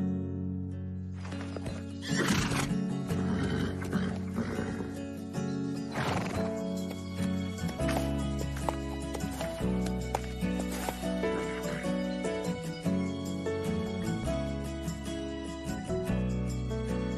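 Horses on a farm whinny and neigh several times, loud and close, over clip-clopping hooves and a steady backdrop, with no one talking.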